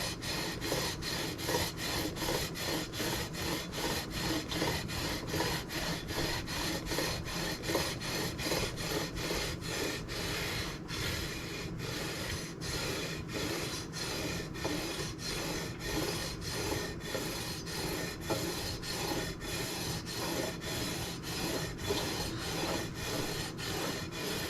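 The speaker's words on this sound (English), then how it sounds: "So I'm rolling the sander like this." Sander rolled over a guitar body to blend the wood finish, a steady close abrasive rubbing with fast rhythmic scraping pulses that runs unbroken throughout, no voices.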